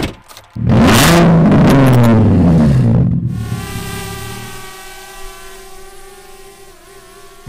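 A car pulls out and accelerates hard, its engine roaring loud and close for a few seconds before easing off into a steadier, receding drone under a thin, constant whine.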